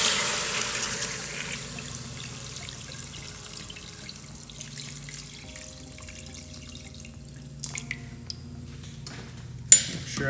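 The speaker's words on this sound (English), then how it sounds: "Now we're just going to cover it with water." Water runs from a tap and pours into an Instant Pot over oxtails, loud at first then settling into a softer trickle, with a few clinks near the end.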